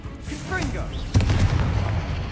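A spell-casting effect from a video game: one sudden burst about a second in, followed by a rumbling low roar, with a spoken voice briefly heard just before it.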